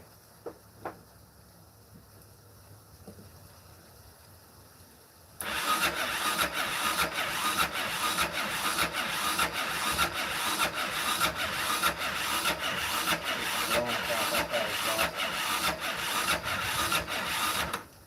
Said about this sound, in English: It's cranking over really slow too.